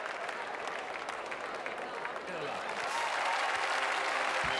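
Irish audience applauding at a show jumping event, steady applause and crowd noise that swells near the end, heard beneath a commentator's voice.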